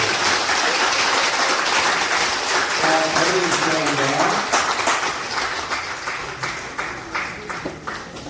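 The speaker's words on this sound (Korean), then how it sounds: "저희 세운향해서 가장 크게 박수 부탁합니다." Church congregation clapping during a deaconess ordination ceremony, a dense steady applause that gradually thins and fades, with a voice speaking briefly over it.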